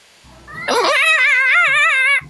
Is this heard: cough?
no